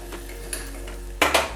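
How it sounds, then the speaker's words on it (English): A spoon stirs broccoli and paneer in a cooking pan while dal reduces. A few scraping clinks ring against the metal over a low steady hum. Two sharper knocks come near the end. "make sure they stir these up to make sure that they're not burning or sticking to the bottom of the pan"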